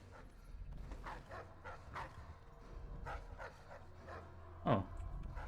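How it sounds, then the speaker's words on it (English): A dog in the video game Dishonored gives a short yelp or bark, a brief single outburst over a dim, rumbling game ambience. "That's a dog."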